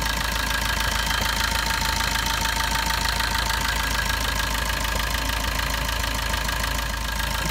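A used car's engine idles steadily during an inspection, a constant close mechanical drone with a light rapid knocking texture and no pauses or speech.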